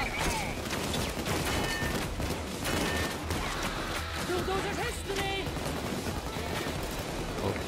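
Gunfire aimed at a bulldozer enemy in Payday 2 crackles in rapid bursts and repeated sharp shots, moderately loud and busy, with game voices and sounds mixed in.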